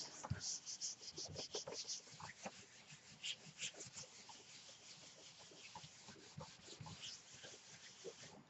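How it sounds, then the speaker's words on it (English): Bare hands rub firmly over paper pressed onto a gel printing plate for a print transfer, producing a quiet, steady scratchy swishing of repeated strokes, close and continuous. "I'm going to try my hands this time just to see. And I'm rubbing it in pretty good."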